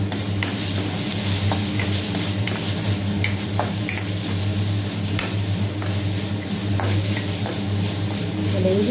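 Ginger garlic paste and curry leaves are sautéed in a pan, a continuous sizzle and fry with a spoon scraping and stirring in steady strokes, close and fairly loud throughout.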